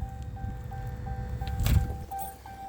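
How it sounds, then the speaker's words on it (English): An electric fuel pump on a 2019+ 6.7L Cummins primes the fuel filter housing, a soft repeating whir with brief tonal pulses and a low rumble, plus a short louder clunk midway. "That's the sound of the pump filling the filter housing up."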